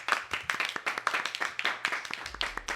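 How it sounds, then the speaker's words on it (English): Applause at an awards-show-style public radio event, many hands clapping in a dense, uneven burst close by, with a low hum entering near the end. "Applause."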